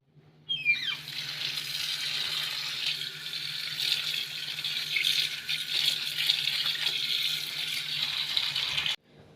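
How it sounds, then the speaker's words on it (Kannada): Tap water runs steadily into a sink while mixed leafy greens are washed, a continuous close hiss with light splashing and rattling as the leaves are handled, starting abruptly and cutting off at the end. "ಇದನ್ನು ಇವಾಗ ತೊಳೆದ್ಬಿಟ್ಟು ಕಟ್ ಮಾಡಿ ಇಡ್ತೀನಿ"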